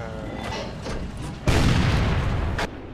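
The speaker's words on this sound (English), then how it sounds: "One of them actually hit the top of my tank." In a tank video game, an enemy tank shell strikes the top of the player's tank with a sudden loud, heavy impact. The crunching blast lasts about a second over quieter engine rumble.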